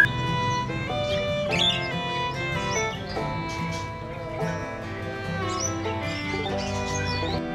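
Songbirds chirp at a small roadside bird and bird-feed kiosk in a village, their calls loud and busy over a constant background drone, with no one speaking.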